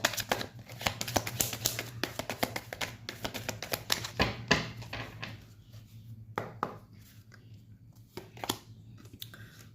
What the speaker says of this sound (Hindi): इतने ज़्यादा कार्ड गिर जाते हैं एक साथ